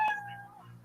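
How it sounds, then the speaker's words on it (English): A single short kitty meow plays as a timer sound effect, clear and close, rising then trailing off with nothing else around it. "you know that your 60 seconds is up when you hear that meow of a kitty"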